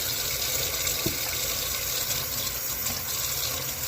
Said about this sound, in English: you should still wash your jars before you put them away